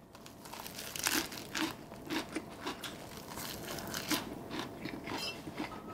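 An elderly man chews vegetable side dishes with a meal of multigrain rice, giving close, crisp crunching bites in an irregular rhythm of repeated soft crackles.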